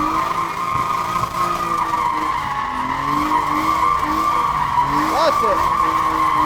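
BMW E46 drifting at a drift school, engine held at full throttle with a steady loud drone while tires squeal and skid continuously; a voice speaks briefly near the end over the noise.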